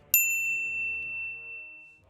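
A single bright notification bell ding strikes once, clean and close, then rings out with a long fading tone into silence.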